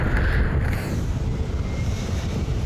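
Steady wind roaring and buffeting close to the microphone beside the Great Eastern ship exhibit in Liverpool, a continuous low rumble with no pauses, loud throughout.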